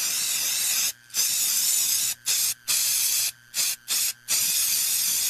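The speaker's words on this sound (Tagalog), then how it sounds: "Humana ko i-spray direkta sa lamok, langaw ug ukok." A Bygone Shield Defense insect killer aerosol is sprayed in loud, close hissing bursts: one long spray, then several shorter ones split by brief pauses, with no talking.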